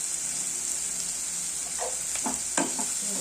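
Onions salted and frying in a pan until soft and reddish, a steady hiss of sizzling with a few scraping stirs near the end, no voices.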